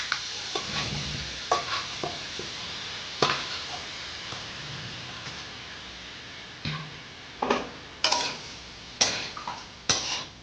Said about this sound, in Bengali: ভেজে চালটাকে একটু কড়াই নেড়ে নেব।